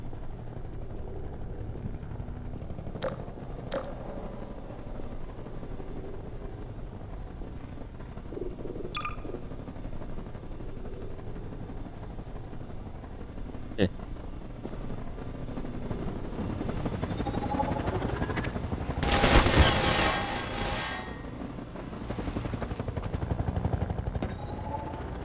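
Helicopter in Half-Life 2 holding a steady rotor drone throughout, with brief sharp shots and a louder burst of gunfire and impact noise near the end.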